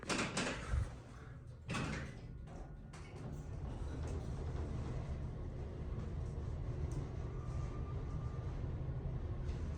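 Haughton traction elevator door in a hospital slides shut with a couple of sharp knocks at the start, followed by a steady low mechanical rumble as the car moves.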